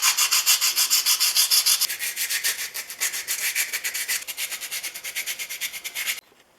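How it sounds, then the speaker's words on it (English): A Stanley No. 20 1/2 circular plane iron rubbed over 150 grit sandpaper on a sanding block, making rhythmic, close, scratchy strokes that speed up toward the end and then stop abruptly. "I'm going to return the whole thing that way if I can, using 150 grit on the sanding block"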